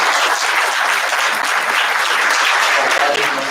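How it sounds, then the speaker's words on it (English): A crowd at a college Black History Month program claps loudly and continuously, a thick, close, unbroken patter of many hands holding steady throughout. "please give them a round of applause"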